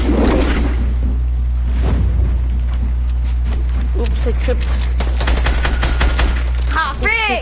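Rapid video game gunfire crackles in dense bursts under excited talk and shouting from players, with booms and a whooshing sweep near the end.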